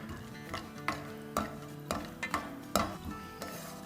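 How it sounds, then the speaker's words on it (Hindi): Chopped cashews, almonds and pistachios roasting in a pan, a quiet sizzle broken by regular scraping strokes of a spoon against the metal, roughly twice a second, with no one speaking. "नट्स को रोस्ट कर लेंगे।"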